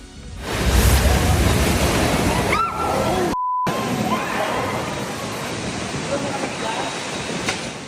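Heavy rain roars steadily with gusting wind during a storm in Metro Manila, loud and continuous, with a few brief tones and a voice faintly heard.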